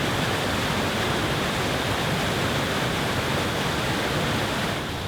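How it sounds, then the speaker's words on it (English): Powerful waterfall with water rushing down a valley, a dense, steady roar that fills the whole clip at close range, loud and unbroken, with no voices. "the water is coming down the valley with such a big force"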